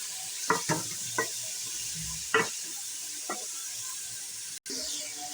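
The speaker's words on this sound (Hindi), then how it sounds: "प्याज भी हम इसी में भून लेंगे।" Onion frying in a pan for homemade nehari gives a soft, steady sizzle close by. Several light stirring scrapes and taps sound over it, and there is no talk.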